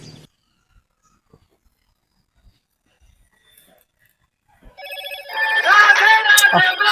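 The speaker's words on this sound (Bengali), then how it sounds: "আবার ফোন করছে, বারবার ফোন করছে তো।" A telephone ringtone rings repeatedly in the last two seconds, loud and close, after a long near-silent stretch.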